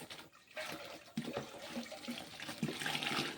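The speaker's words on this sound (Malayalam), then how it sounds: "ഇത് വെള്ളം നിറക്കട്ടെ." Water splashing and gurgling as it fills a container in a home garden setting, a faint, uneven rushing flow with small bubbling bursts throughout.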